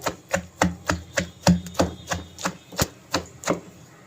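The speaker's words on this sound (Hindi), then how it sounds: "धनिया, प्याज और सब्ज़ मिर्च जो है इनको मैं अच्छी तरह कूट लूँगी जल्दी से।" Coriander, onion and green chilli pounded in a mortar at home, a dozen or so evenly spaced close thuds in a quick steady rhythm, with no voices.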